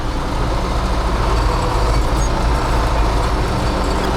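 A PZM-2 field earth-moving machine driving in first gear, a loud, steady engine and drivetrain roar that holds without break and with no talking.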